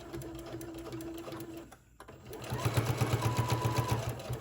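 A sewing machine back-stitches a strap onto a small rainbow tote bag: a whirring motor run, a brief pause, then a louder, rapid rhythmic stitching burst close by.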